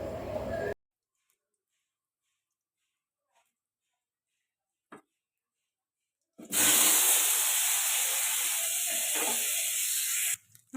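Potatoes fry in hot oil, a loud, steady sizzling hiss that begins abruptly after several seconds of near silence and runs for about four seconds before cutting off.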